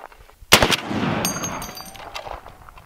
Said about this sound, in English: Okay, one more armor piercing incendiary.